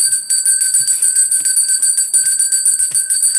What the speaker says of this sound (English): We're going to ring that bell and I'm going to call it.